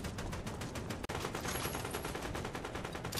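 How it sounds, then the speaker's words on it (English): Rapid automatic gunfire in the Fortnite video game, a continuous fast burst of evenly spaced shots with one brief break, loud and constant throughout, no speech. "Oh, he's shooting at people."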